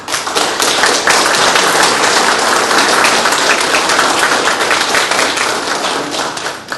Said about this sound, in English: Let's give both of these candidates a round of applause.